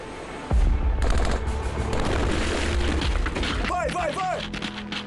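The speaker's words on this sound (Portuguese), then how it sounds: "As tropas treinam com munição real." Troops firing live ammunition in training, a heavy boom followed by sustained loud bursts of gunfire with shouting voices mixed in.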